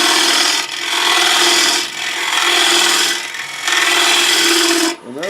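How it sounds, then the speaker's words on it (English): A bowl gouge cuts a tenon on a wooden plate spinning on a lathe, giving a loud, continuous scraping hiss in long passes broken by brief pauses. "I'll come into that bowl gouge and I'll start building my tenon on there."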